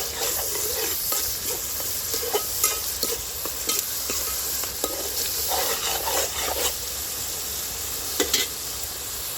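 Turmeric and spices frying in hot oil in a pan while a curry is prepared, a constant close sizzle with occasional stirring scrapes and clinks, no talking.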